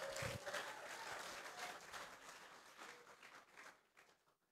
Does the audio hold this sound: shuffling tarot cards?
no